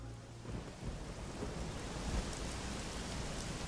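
Video game rain in gm_construct pours continuously with low thunder rumbling underneath, a dense, even wash of sound with no voices.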